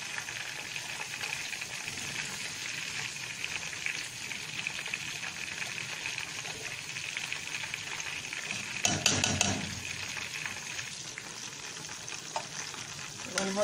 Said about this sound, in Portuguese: Vou deixar dar uma refogadinha na cebola no alho, daí eu já vou jogar o milho